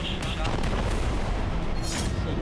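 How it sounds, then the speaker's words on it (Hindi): Heavy aerial bombing over Gaza in news footage: dense, continuous rumbling blasts and booming impacts, loud throughout with a sharper burst of noise near the end, no clear pauses. "आसमान से भीषण बमबारी।"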